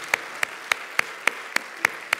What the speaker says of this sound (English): I want you to just give a big hand clap of praise right now and just bless the Lord